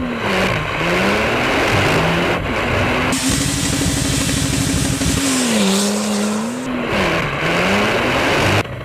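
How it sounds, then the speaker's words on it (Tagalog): A 2014 Porsche 911 Turbo S makes a standing start with PDK launch control, its engine revving high and then pulling through rapid gear changes, with repeated rising and falling engine notes heard close and loud and no talking. "50 standing starts in a row using Porsche's PDK launch control"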